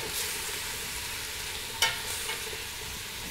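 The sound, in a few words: searing beef stew ingredients with fresh thyme and parsley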